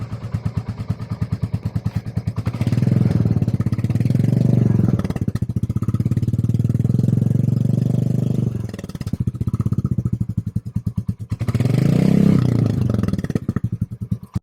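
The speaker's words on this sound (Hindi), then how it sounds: "एग्जॉस्ट नोट जो है वो रॉयल एनफील्ड के साथ बिल्कुल सिनोनिमस है" Royal Enfield Classic 350 single-cylinder motorcycle with its steady thumping exhaust note, loud and close, swelling as it revs in long sustained runs with a brief dip between them.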